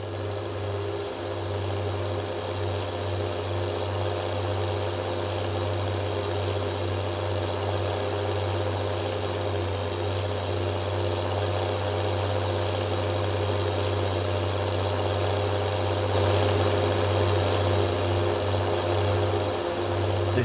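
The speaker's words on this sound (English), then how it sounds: "This freaking tractor is so loud." A tractor in a farming video game runs loud and steady, a constant low engine drone with a strong hum and overtones that holds for about twenty seconds, close and unbroken, with no talk.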